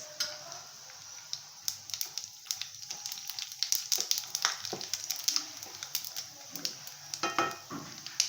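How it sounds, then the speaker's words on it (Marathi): Spices and fennel seeds crackle and pop in hot oil for Khandeshi-style rajwadi khichdi, a steady dense sizzle with sharp irregular snaps throughout, close and moderately loud, no talking. "आपले मसाले चांगले तडतडू द्यायचे आहेत"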